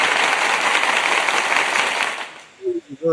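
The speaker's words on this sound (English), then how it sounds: "let me give you guys a round of applause." A round of applause, a steady dense clapping wash that fades out after about two and a half seconds, followed by a brief voice starting to speak.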